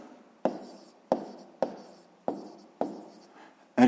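A pen writes on paper in six distinct strokes spaced about half a second apart, each a sharp scratchy onset that trails off, close and clear with no voice.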